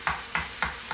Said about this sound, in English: Cut them right there in the pan.